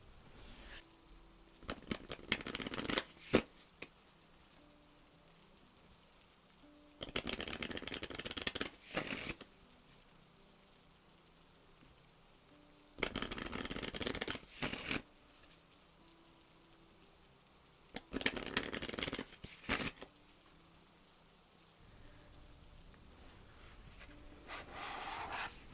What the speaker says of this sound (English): Next, I'm going to pull some oracle cards.